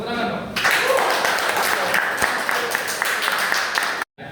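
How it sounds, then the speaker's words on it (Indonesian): Students in a classroom clap together for about three and a half seconds, loud and close, with voices mixed into the applause before it cuts off abruptly. "Tepuk tangan dong."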